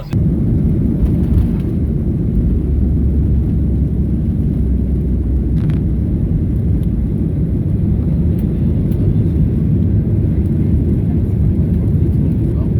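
Airliner cabin during takeoff on a flight taken on the way to a cruise, with a loud, steady low-frequency engine roar and rumble filling the whole stretch without letup.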